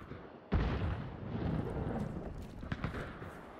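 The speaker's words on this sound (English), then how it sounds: "Oh, they're throwing grenades in there!" A grenade explosion in Hunt: Showdown booms with a sudden sharp onset, then a rumbling tail and fainter distant blasts afterward.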